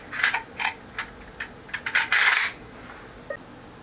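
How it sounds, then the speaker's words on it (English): The bolt of a Kalashnikov rifle is worked and closed, giving a short series of sharp metallic clicks that ends in a louder rattling clack, close up, followed by a faint tick. "the bolt is simply closed"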